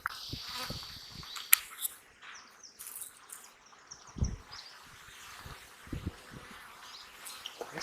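Honey bees buzz around an open hive, a steady faint hum of many insects with occasional louder passes of individual bees close by, no talking.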